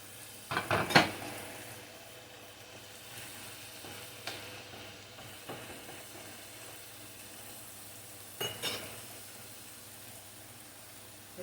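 Carrots in olive oil in a pot for curry chicken give a soft sizzle beneath scattered loud clinks and scrapes of utensils against the pot, with no talking.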